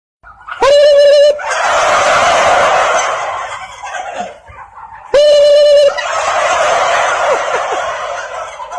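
A flock of turkeys gobbles in two loud, rattling bursts, each a quick stuttering call followed by a long noisy chorus of birds, close and clear with no talking.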